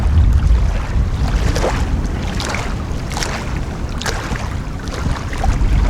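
Strong wind roars steadily beside a choppy lake in Michigan, buffeting the microphone up close with a constant rumble and gusty surges throughout.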